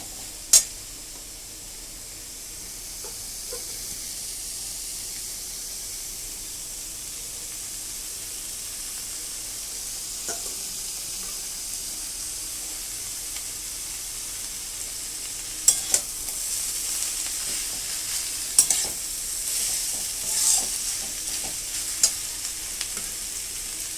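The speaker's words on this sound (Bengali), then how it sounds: "এবার সবজিটা ভেজে নিচ্ছি।" Vegetables frying in a pan for chowmein give a steady, close hiss of sizzling oil throughout, with scattered sharp clicks and clatters of stirring growing more frequent toward the end.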